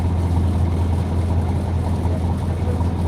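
A trawler's engine drones at a steady idle-like rumble, a constant low hum with a whirring mechanical texture that stays even and fairly close throughout.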